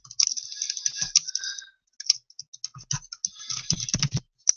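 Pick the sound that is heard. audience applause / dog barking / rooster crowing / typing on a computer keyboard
typing on a computer keyboard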